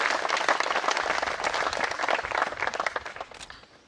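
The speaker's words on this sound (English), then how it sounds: "Let's give them a huge round of applause." Wedding guests applaud the couple with dense, steady clapping that fills the whole stretch, loud at first and tapering off toward the end.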